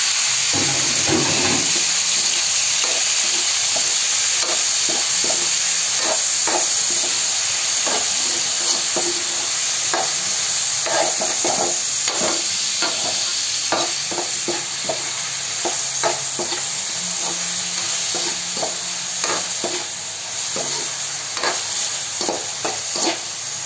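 Garlic and tomato sauté in a hot pan, a steady close sizzle with frequent scraping stirs and clinks of a utensil running throughout, no voices.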